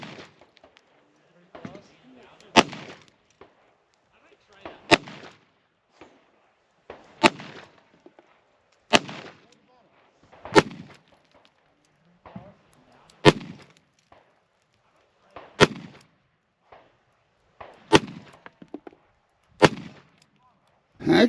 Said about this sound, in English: Again, we're shooting MagTech 38 Special.